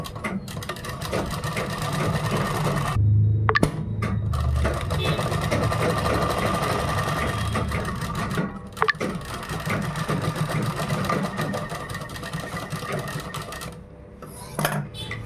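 A sewing machine runs steadily, stitching a kurta made from a dupatta with a continuous close mechanical whir that pauses briefly a few times.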